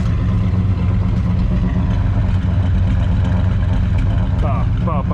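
A 1970s Chevy Nova junkyard engine idles with a steady low rumble and slightly uneven beat from a misfire, close by, with a voice talking over it.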